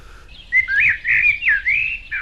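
A person whistles an imitation of an oriole's call, a few clear, rising and falling fluty phrases delivered close and alone in quick succession.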